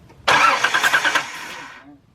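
A Nissan 300ZX engine cranks but fails to start, giving a brief, close, churning burst of starter and engine noise that fades out after about a second and a half.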